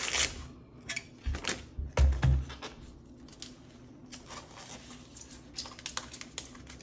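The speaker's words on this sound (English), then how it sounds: "I just go ahead and cut it off" Scissors trim excess sublimation material from around a glass cutting board in a few quick, close snips and rustles, followed by softer crinkling of the material and no talking.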